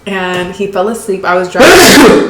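A person sneezes loudly and sharply near the end, right after close speech. The burst is abrupt and forceful.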